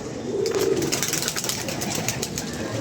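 Pigeons in a loft, their soft low cooing carrying steadily against a busy background hum, with occasional flutters and a faint voice in the mix.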